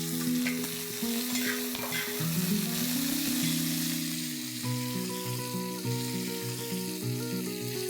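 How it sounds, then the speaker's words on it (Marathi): Sliced onions and whole spices like cardamom, peppercorns and cloves frying in a pan, a steady close sizzle running under a loud melodic music backing throughout. "त्यात आपण 3 कांदे लांबट चिरलेले गुलाबी होईपर्यंत परतून घेऊया"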